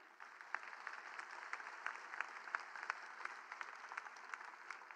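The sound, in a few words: audience applause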